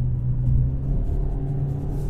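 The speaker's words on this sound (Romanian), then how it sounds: "Și motorul chiar se aude frumos." A Kia Optima petrol engine runs inside the car at steady revs, a loud continuous low hum and rumble with a stable tonal drone, no talking over it.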